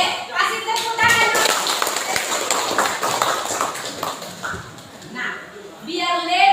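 A classroom of children claps together in quick rhythmic bursts. Voices and chatter are mixed in, and the clapping rises at the start and again near the end.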